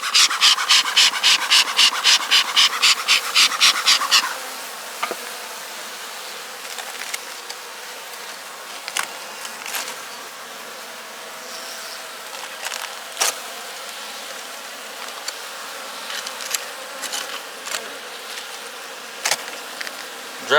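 Honeybees at a hive buzz in quick pulsing bursts up close at first, then settle to a faint steady hum with occasional scraping and knocks, as in winter beekeeping work.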